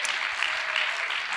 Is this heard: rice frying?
no